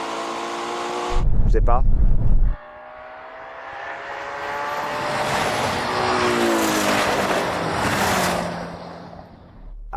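A Ferrari Purosangue, a BMW X5 M and a Chinese SUV launch off the line in a drag race, a loud burst of engine roar followed by a rising, fading drone of the cars pulling away, with people talking briefly.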